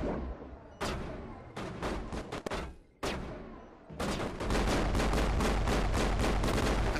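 Video game pistol gunshots ring out loud and close, first as scattered single shots and short bursts, then as a rapid steady volley of repeated shots.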